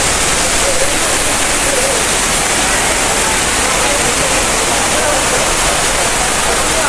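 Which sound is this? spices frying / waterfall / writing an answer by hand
waterfall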